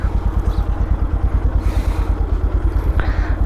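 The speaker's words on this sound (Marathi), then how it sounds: "आय थिंक इथेच बाईक पार्क करावी लागणार." A motorcycle engine idles steadily and close by, parked near the Ambarnath Shiv temple, with an even low rumbling pulse throughout and a brief clatter near the end.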